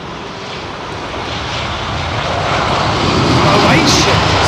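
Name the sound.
Croatia Airlines Airbus A320 with CFM56 engines taking off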